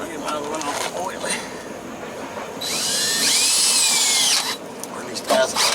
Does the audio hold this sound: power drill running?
yes